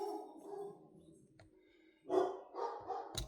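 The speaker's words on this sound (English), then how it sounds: "Dog's barking." Dogs barking in a workshop, a few loud close barks in a quick burst after a quieter stretch of whimpering and faint background noise.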